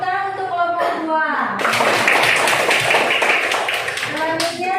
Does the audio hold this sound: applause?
yes